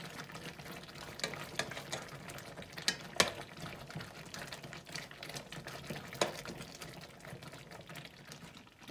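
Spinach cooking down in a thickening egg base in a pan, stirred with scattered scrapes and soft sizzling, a few sharper clinks standing out over a steady low hiss, no talking.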